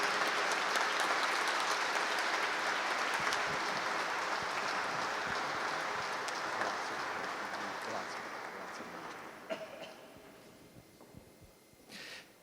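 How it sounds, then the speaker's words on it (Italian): An audience applauds the minister at a commemorative event with sustained, dense clapping that slowly fades over about ten seconds, ending in a few scattered claps. "un applauso al signor Ministro"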